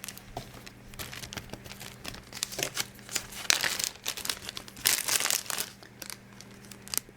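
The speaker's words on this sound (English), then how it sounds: "It's a quart size plastic bag that has a zipper seal" A quart-size zipper-seal plastic bag crinkling and rustling in irregular bursts, close up, with louder crackly handling near the middle and no talking.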